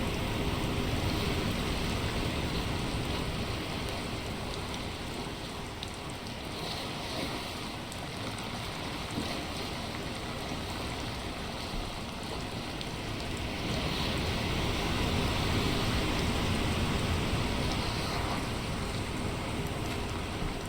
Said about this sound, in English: Rain again? Are you kidding me?